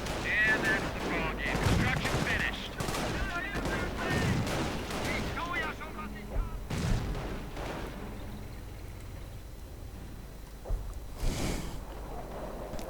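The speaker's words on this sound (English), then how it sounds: "Artillery once more moving in on this spot, or some spot. Right on the bunker again." Artillery and gunfire in a World War II strategy game, with booming impacts and crackling fire heavy at first, then thinning to scattered distant shots and a later blast, while a voice talks over much of it.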